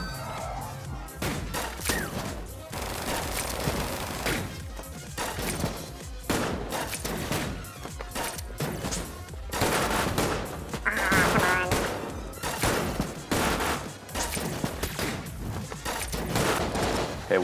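Dense bursts of gunfire from the video game Enter the Gungeon rattle almost continuously, with rapid volleys and thuds layered over game sounds, fairly loud and unbroken by talk.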